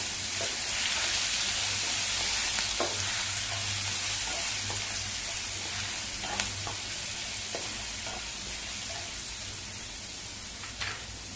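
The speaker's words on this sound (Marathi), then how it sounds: "चांगलं परतवून घेऊया." Green chilli paste with cumin sautés in a hot pan, a loud, continuous close-up sizzle with light stirring scrapes throughout.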